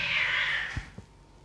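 A cat gives a single drawn-out meow that fades over about half a second, followed by a couple of soft thumps in a quiet indoor room.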